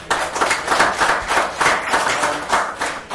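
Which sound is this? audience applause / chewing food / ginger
audience applause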